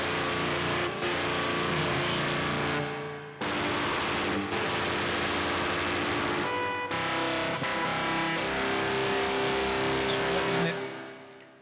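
Heavily distorted, buzzing sustained chords in magic temperament tuning ring out loud and dense in three long blocks, each break marked by a brief cut.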